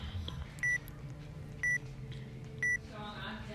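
A countdown timer in a Roblox game gives three short, clear electronic beeps about one second apart, each crisp and identical, over a low background hum with faint talk.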